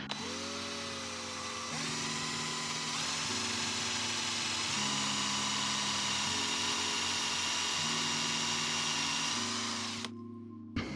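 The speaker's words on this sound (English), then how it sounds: "I'm going to stick the drill bit in" A drill bores a hole through a drilling jig, a close, loud, continuous whine that steps in pitch several times as the load changes, then cuts off abruptly near the end.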